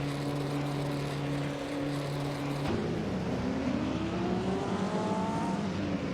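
Racing cars in a 1950s classics racing video game hum with steady engine drones, then the pitch shifts upward as they accelerate out of the pits.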